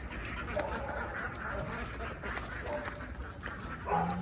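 Laying ducks quacking in a noisy flock, with an occasional dog bark mixed into a constant busy background.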